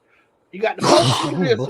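A single sharp sneeze bursts out after a moment of quiet, followed right away by people talking.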